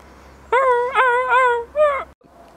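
A voice imitates a dog, producing several drawn-out whimpering, yelping barks in quick succession, loud and close, followed by a short pause.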